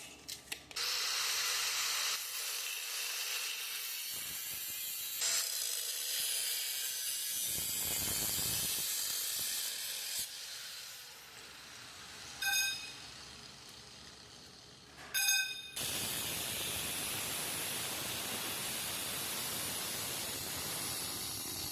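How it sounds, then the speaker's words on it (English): Metal tubing for a large gas-powered RC dune buggy frame is welded in quiet, crackling bursts of hissing sizzle, separated by short pauses, with no talking. "Welding without a mask is pretty terrible."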